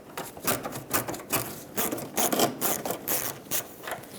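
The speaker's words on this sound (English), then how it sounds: "in the corner where the bumper cover meets the quarter panel, there's another Phillips head screw. Remove that as well." A Phillips head screw being backed out of the corner where a 2006-2011 Honda Civic rear bumper cover meets the quarter panel; a rapid run of close ratcheting clicks repeating in short bursts, with no talk.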